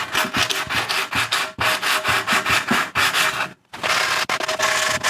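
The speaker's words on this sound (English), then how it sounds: "I've got my sanding block here. I'm gonna wet sand some of this." Rhythmic back-and-forth strokes of a diamond sanding block wet sanding a pottery piece, loud and close, with brief pauses between bursts.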